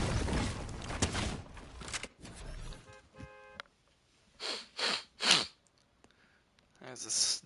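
Short, breathy sniffs and snorts come in separate bursts between quieter gaps, alongside other noise in a Fortnite gaming session.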